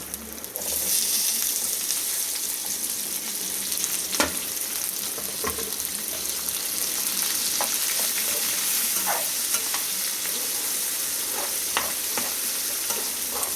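Small onions and green chilies frying in a pan, a steady dense sizzle running throughout with occasional scrapes and clicks of stirring, close and fairly loud.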